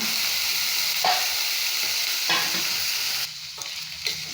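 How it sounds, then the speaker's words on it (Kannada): Bitter gourd stir-fried with chilies, cumin powder, coriander powder, turmeric and curry leaves, with a steady close sizzle, a couple of stirring scrapes, and the frying quieting somewhat near the end. "ಈಗ ಮೆಣಸಿನ್ಕಾಯಿ ಹಾಕ್ತಾಯಿದ್ದೀನಿ, ಜೀರಾ ಪೌಡರ್, ಧನಿಯಾ ಪೌಡರ್, ಜೀರಾ ಪೌಡರ್, ಅರಿಶಿನ, ಕರ್ಬೇವಿನ ಸೊಪ್ಪು ಎಲ್ಲ ಹಾಕೋಣ."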